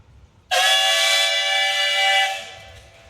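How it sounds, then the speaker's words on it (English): A loud steam engine whistle blasts suddenly at a steam threshers reunion, holding a steady, piercing multi-tone shriek for about two seconds before trailing off, with faint rumble beneath. "he would give this whistle that steam is up"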